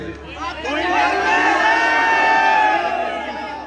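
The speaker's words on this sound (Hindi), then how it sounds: "ये मोहब्बत करने वालों की भीड़ है" A large crowd at a Bhim Army political rally swells into loud, sustained cheering and shouting, rising over a second and holding steady before easing off slightly.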